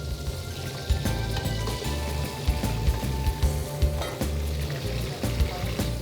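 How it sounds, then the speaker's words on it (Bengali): Chicken frying in oil in a pan, with a steady, dense sizzle running throughout, close and moderately loud, punctuated by occasional sharper pops and spatters, and no talk. "চিকেনটাকে ভাজলাম।"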